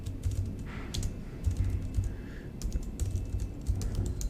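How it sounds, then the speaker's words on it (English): Rapid bursts of keystrokes clatter on a computer keyboard, close and fairly quiet, with brief pauses between runs of typing. "Not good at typing today."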